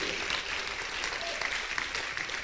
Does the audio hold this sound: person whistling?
no